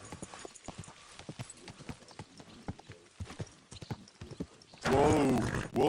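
Horse hooves clip-clop in a steady rhythmic walk in Kingdom Come Deliverance 2, close and moderately loud, ending in a loud whinny near the end.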